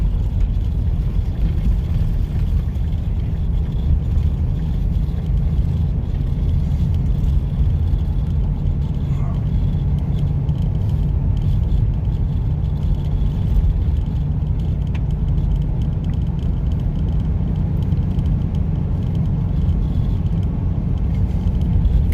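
Town road traffic during a Mississippi ice storm, heard from inside a moving car, comes through as a steady low rumble of engine and road noise that runs unbroken and fairly loud throughout.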